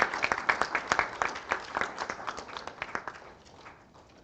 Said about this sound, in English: Let's give them a big round of applause for their outstanding contribution